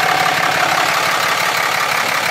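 A 2007 Dodge Ram 2500HD SLT with a Cummins turbo diesel idles close by. The engine makes a loud, steady clattering rumble with an even diesel knock and no voices.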